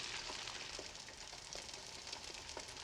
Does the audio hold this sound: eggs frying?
yes